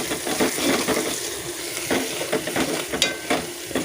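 Onions and spring onions frying in a pan, a steady broadband sizzle with occasional stirring scrapes, close and fairly loud throughout.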